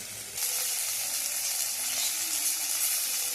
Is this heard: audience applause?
no